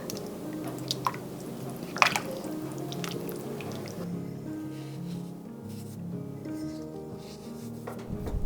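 Soup stirred in a pot while it simmers, with soft wet squishing and a few liquid clicks and drips close by, fading to a quieter bubbling background.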